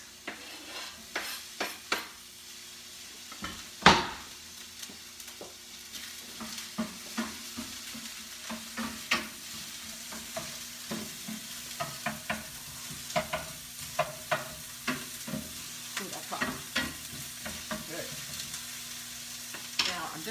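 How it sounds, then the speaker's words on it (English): Onions and peppers sizzle in a hot pan with a constant fry hiss, broken by frequent sharp scrapes and taps of stirring. "There's all the onion in there, and the peppers."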